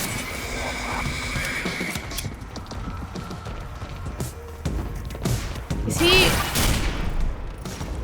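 Gunfire during a boss fight in the video game Quantum Break, scattered shots and impacts over a rumbling, glitchy mechanical background, moderately loud, with a person talking at times.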